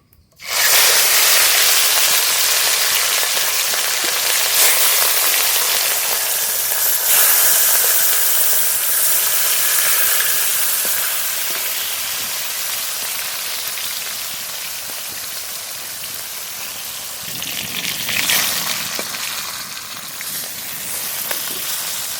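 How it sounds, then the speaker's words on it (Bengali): Rohu fish rubbed with salt and turmeric hits hot mustard oil in a kadai, bursting into a loud, continuous hissing sizzle that slowly settles while staying steady and close, with no talking. "লবণ হলুদ মাখানো রুই মাছ ভেজে নেবো"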